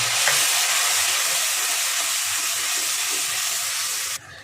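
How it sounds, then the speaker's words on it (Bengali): Chili-powder spice paste sautéing with added water, a loud, steady sizzle and steamy hiss with faint stirring scrapes, running continuously before cutting off abruptly near the end. "এবার আমি খানিকটা জল দিয়ে দেবো, জল দিয়ে মশলাটাকে ভালো করে কষাবো।"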